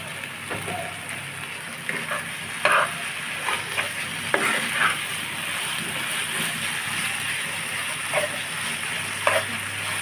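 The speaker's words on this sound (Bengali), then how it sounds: "ভেজে নিলেই তৈরি হয়ে যাবে আমাদের অসম্ভব মজাদার বেগুনের ভর্তা আর উপর দিয়ে আমি দিয়ে দেবো বেশি করে একটু সর্ষের তেল" Mashed eggplant bharta sizzles steadily in a pan with mustard oil, a loud continuous fry with scattered scrapes and stirring knocks, no talk over it.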